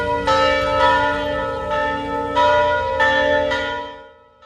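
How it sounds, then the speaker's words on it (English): Large church bells at Old Mission Santa Barbara tolling at noon, striking repeatedly with rich, lingering overtones, strikes overlapping and ringing on before fading out at the end. "the Old Mission Santa Barbara bells were tolling at noon to celebrate the new Pope"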